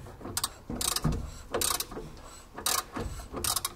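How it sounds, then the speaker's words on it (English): A Porsche 356 engine's crankshaft is turned by hand through half a revolution, giving a series of short ratcheting clicks in four or five uneven bursts, fairly close and quiet. "So we'll go ahead and rotate our crank 180 degrees"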